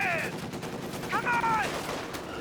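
Machine gun fire in Company of Heroes 2, a dense rattle of mid-distance bursts mixed with battlefield noise and whistling effects throughout.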